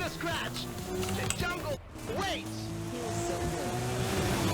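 River water rushes past a car in Forza Horizon 5, a steady splashing wash that stays loud throughout while an engine hums and someone talks over it.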